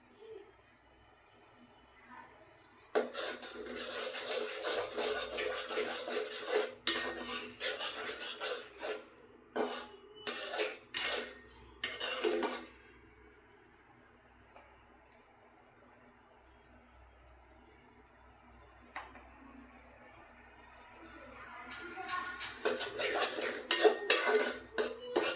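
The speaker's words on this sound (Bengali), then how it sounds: "তো আমি মশলাটা এখন কষিয়ে নিব।" Spices with chili powder stir-fried in a pan for a chicken-skin dish, heard as bursts of metal utensil scraping and clattering against the pan with quiet gaps between them, close and fairly faint.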